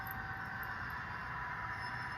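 An HO scale model train runs on a layout past a model paper mill, giving a faint, steady mechanical hum and hiss with no pauses.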